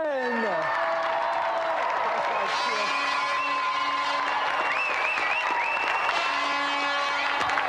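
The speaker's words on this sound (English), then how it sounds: "So let's have another round of applause for Andy Thompson and our special guest, Ric" A studio audience at a television games show applauds and cheers, a steady wash of clapping lasting several seconds under loud music with sweeping electronic tones.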